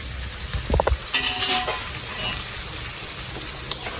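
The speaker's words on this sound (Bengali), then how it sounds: "এই মতো অবস্থায় আমি কিশমিশগুলো দিয়ে দিচ্ছি" Raisins drop into hot oil for capsicum pulao with a few low clunks, then settle into a steady sizzling hiss with a brief scrape of a spoon near the end.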